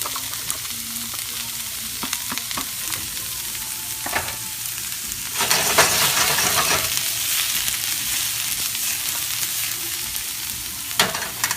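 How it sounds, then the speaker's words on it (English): Mushrooms and onions sizzling in a hot pan, a continuous crackling fry that swells louder midway, with occasional stirring clinks. "Then we're going to throw in our mushrooms that are left over and our onions."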